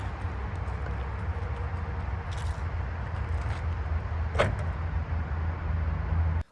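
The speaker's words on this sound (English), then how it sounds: "To close the trunk, just push the button." Power liftgate of a 2024 Ford Expedition Limited MAX closing after a button push: a steady electric motor hum runs for several seconds, a brief latch click lands near the middle, and the sound cuts off sharply at the end.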